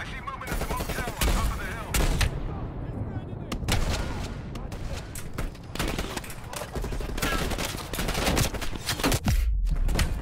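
Call of Duty Cold War gunfire: dense bursts of automatic and single shots, loud and close, with sharp cracks scattered throughout and voices talking over the shooting.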